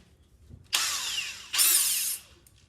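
A temperamental power drill fitted with a 4.5 mm bit whirs loudly in two separate bursts, each lasting well under a second, with a short pause between them and no talking.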